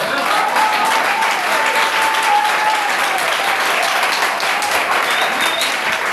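A church congregation applauds the Lord in steady, dense clapping that fills the room, loud and continuous throughout, with a few faint cheers mixed in.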